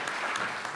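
Audience applause at a cancer conference plenary session, a steady wash of clapping from a seated crowd, fairly soft and continuous with no voices over it.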